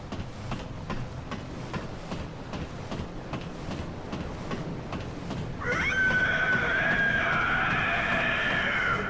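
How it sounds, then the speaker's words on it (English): High-pitched creepy scream of the Cleric Beast, the first boss in the video game Bloodborne, rising abruptly midway as a sustained shrill wail over rumbling ambient game noise and footstep-like ticks. "that really high-pitched scream. That's actually the sound of the first boss."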